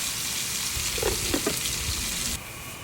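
Eggplant sautéing in a pan, giving a steady hissing sizzle with a few soft stirring scrapes near the middle, alone and without talk, and the sound dropping slightly near the end.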